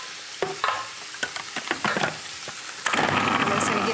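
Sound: food processor processing curry spice ingredients

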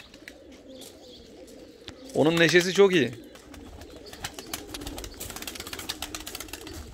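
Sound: tumbler pigeons cooing at a loft

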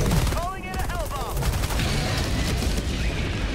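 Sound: airstrike explosions in video game Helldivers 2

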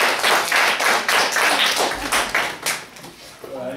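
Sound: audience applause after a student speech

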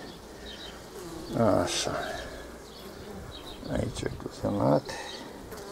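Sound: honeybees buzzing on a hive frame

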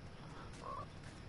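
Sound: frog croaking in the video game Fortnite

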